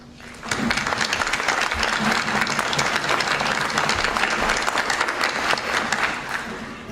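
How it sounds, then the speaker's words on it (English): Sustained applause from a large audience at a school board meeting, dense and even clapping that holds steady for several seconds before tapering slightly. "I'd like to applaud our students and Mrs. Delarose for her continued support"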